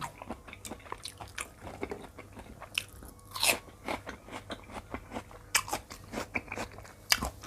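Close, crisp crunching as fresh shrimp with chili is bitten and chewed in a seafood eating session: a steady run of sharp bites and wet chews over about seven seconds, with no talking.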